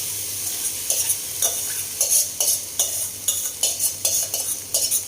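Soaked, dried poha being stirred in a pan with a metal spoon, giving a steady run of sharp scraping, clinking strokes about once a second over a faint sizzle, close up and with no voices.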